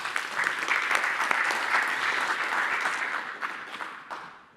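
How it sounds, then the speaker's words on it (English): Audience applause at an industry conference session on investment fund registries, a dense steady clapping from a crowd that holds through the clip and tapers off near the end. "Please welcome, with another round of applause, Sandra Sohn from INTAS.tech."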